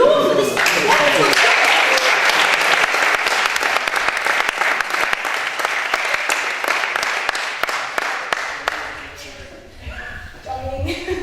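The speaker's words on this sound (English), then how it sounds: "A big applause for this wonderful" An audience bursts into loud, sustained applause for a performer, steady dense clapping that fades out over about ten seconds before someone begins speaking.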